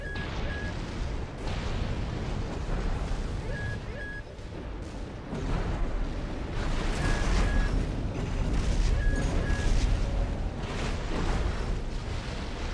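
Dense combat in Armored Core VI: rapid gunfire and booming explosions pile up continuously into a loud, chaotic din with no pauses.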